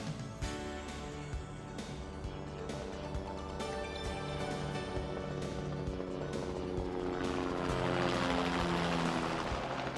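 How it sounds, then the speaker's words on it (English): A floatplane flies over remote mountainous coastal country near Princess Royal Island, its propeller engine droning steadily throughout and swelling louder and closer toward the end. "a floatplane flies right to the lodge"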